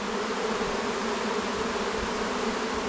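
Honeybee swarm fanning its wings, a steady, dense buzzing drone close by that holds at an even level throughout with no voices.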